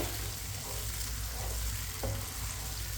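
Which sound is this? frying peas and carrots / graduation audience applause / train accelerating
frying peas and carrots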